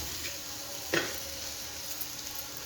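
Soaked rice and moong dal frying in oil for a summer khichdi, a steady, close sizzle broken by one short stirring scrape near the start.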